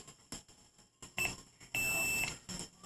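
A multimeter's high-pitched continuity buzzer beeps in two short bursts, the second longer, separated by clicks and faint handling noise.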